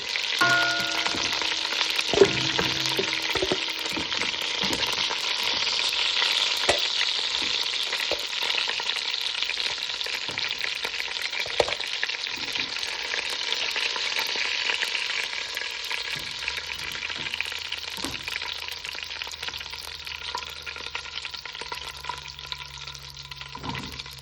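Chicken pieces sizzle and brown in hot oil in a pot, a dense steady crackle that holds throughout, with a few faint utensil knocks and a low hum near the end.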